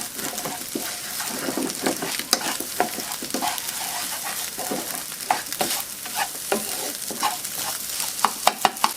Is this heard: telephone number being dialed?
no